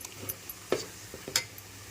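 Misal masala and goda masala spices being stirred in a cooking pot for misal, with a few sharp spoon scrapes and clinks against the metal over a faint background sizzle.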